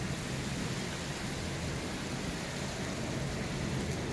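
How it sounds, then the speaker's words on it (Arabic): Heavy rain falling during a winter storm in Cyprus, a dense, continuous hiss that stays steady and loud throughout, with no voices or other distinct sounds. "إذا تلاحظوا غزارة المطر"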